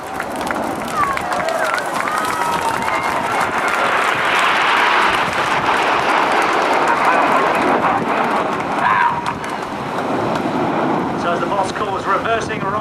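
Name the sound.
crowd applause and cheering at air show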